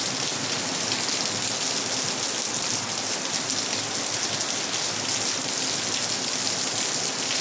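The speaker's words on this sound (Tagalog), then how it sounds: "Napakalakas ng ulan." Heavy rain with thunder and lightning pours down in a dense, unbroken hiss, loud and steady throughout with no voices.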